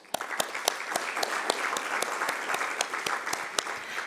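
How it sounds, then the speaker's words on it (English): Steady applause from a conference audience at an agricultural policy meeting, continuous clapping with a few sharper, louder claps standing out throughout. "give out a thunderous round of applause to acknowledge everyone here present today."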